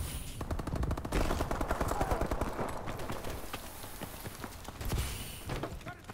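Rapid bursts of STG assault rifle fire in the Advanced Warfare shooter game, dense crackling volleys repeating over several seconds alongside other game effects.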